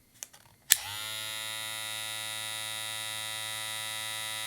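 A Supreme Trimmer Pro hair clipper switches on after a couple of faint clicks and then runs alone with a steady, loud, high-pitched electric whine and buzz.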